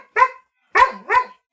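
A dog gives three sharp barks, one alone and then a quick pair after a pause, loud and close with silence between them.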